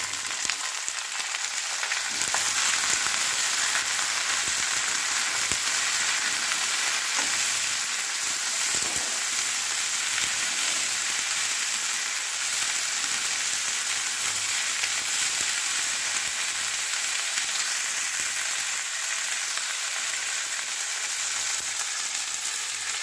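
Cauliflower, peas, carrot and beans fry in a pan for semolina upma, a loud, continuous bright sizzle that holds steady throughout with occasional faint stirring clicks.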